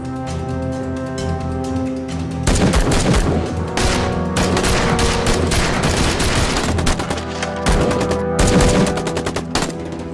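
Bursts of automatic gunfire ring out once troops are ordered to open fire, dense rattling volleys that start abruptly and come in repeated loud stretches, with no talk over them.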